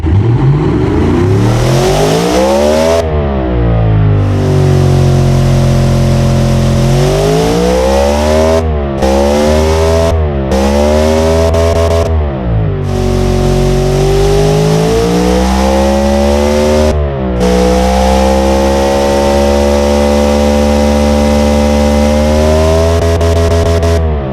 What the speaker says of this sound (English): As you can hear, it sounds really rough at idle because it's a racing engine.